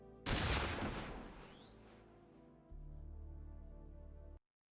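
Gunfire aimed at a boss in Metal Gear Solid 3: a loud burst of rapid shots that fades and trails off, then a low sustained game drone that cuts out abruptly.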